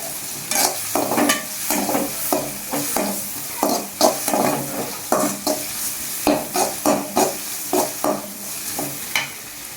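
Onions frying in a pan as a spoon stirs them, with repeated scraping strokes in an uneven rhythm over a steady background sizzle, close and fairly loud with no talking.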